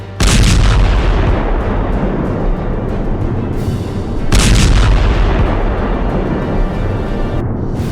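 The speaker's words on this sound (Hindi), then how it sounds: "जवाबी कार्रवाई करते हुए लेबनान की तरफ ताबड़तोड़ मिसाइलें दाग दी।" Heavy military missile launches fired by Israeli forces toward Lebanon along the border, two loud booming blasts with long rumbling roars that stay strong and dense throughout, no voices.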